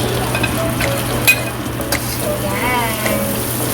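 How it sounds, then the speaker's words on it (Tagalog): Onions frying in a pan for a beef caldereta, a steady close sizzle with scattered crackles and spatters and a faint low hum underneath, no talking. "Next, I'm going to put the onions."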